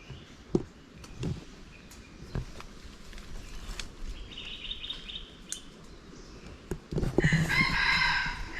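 Red junglefowl crowing in forest, a harsh rooster-like crow bursting out near the end over a steady insect and bird background with scattered faint calls and clicks.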